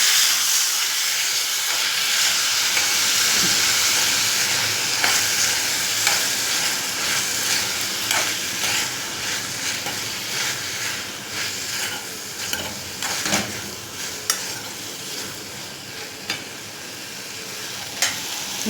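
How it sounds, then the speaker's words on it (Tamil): Capsicum and potato sabzi stirred in a hot pan, a steady sizzling hiss of frying with a spatula scraping and clinking now and then, close and continuous for the whole stretch, with no talking. "எல்லாத்தையும் மிக்ஸ் பண்ணி விட்டுடுறேன்."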